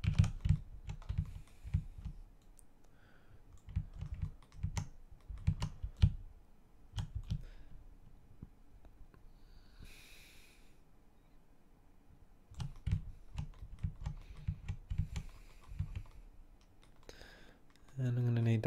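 Bursts of quick clattering keystrokes on a computer keyboard come in several runs with short pauses between them, close and clear, with a brief stretch of talk in the middle.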